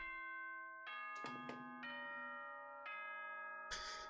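Doorbell chime from the video game Danganronpa: Trigger Happy Havoc, a clear two-tone ding-dong with ringing sustained tones, followed by a second chime and a brighter flourish near the end, alone without talk.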